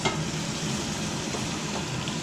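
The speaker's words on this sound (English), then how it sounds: "then it will boil here for quite a long time" Pomegranate sweet chili sauce with garlic bubbles steadily in a pot, a continuous close sizzling, simmering hiss with soft stirring-like texture throughout and no talking.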